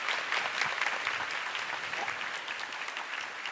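An audience at a master class with author Asada Jiro gives loud, sustained applause, a dense unbroken wash of clapping that runs for a few seconds with no talk over it.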